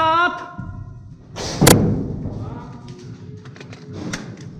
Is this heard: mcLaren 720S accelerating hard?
no